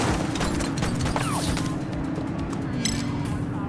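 Dense bursts of gunfire in the video game The Precinct crackle and boom over a constant low rumble, the shots packed in rapid, irregular volleys throughout.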